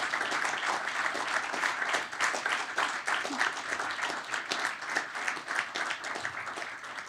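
Steady, fairly soft applause from an audience at a university engineering recognition event, sustained without a break and no speech over it.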